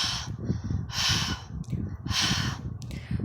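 A voice makes heavy, exaggerated panting breaths, three long rasping exhales in a slow rhythm, imitating a monster's breathing, close to the microphone.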